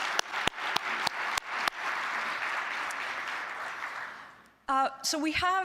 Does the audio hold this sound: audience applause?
yes